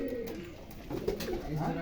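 Black Giribaz pigeons in Rajshahi coo in a low, steady murmur of overlapping calls, fairly close and continuous throughout the short stretch.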